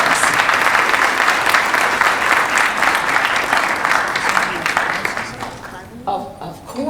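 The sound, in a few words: audience applause for a panel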